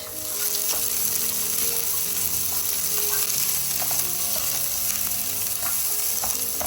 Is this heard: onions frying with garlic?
yes